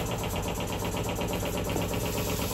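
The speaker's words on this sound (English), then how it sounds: "my washing machine's spinning" Washing machine on its spin cycle, a steady, loud, dense mechanical whirring rumble with a faint high whine, continuous and unchanging throughout with no voices.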